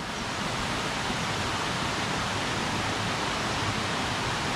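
Waterfall flowing in Laos, a steady, dense rush of falling water heard close and continuous without pause, with no voices over it.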